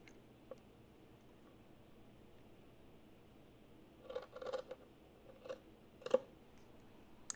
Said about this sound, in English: Now we're going to cut a triangle out of this one.